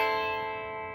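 A single minor 9 chord in a particular voicing rings out sustained and close, its stacked tones fading slowly over about a second with no other sound.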